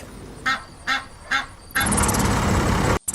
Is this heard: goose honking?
yes